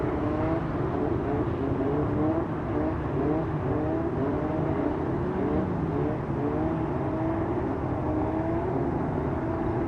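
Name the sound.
Formula Vee race cars on the grid before the start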